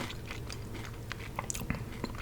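Ruffles All Dressed potato chips, salty with a vinegar tang, crunched and chewed up close, with irregular crisp bites and soft chewing over a quiet room.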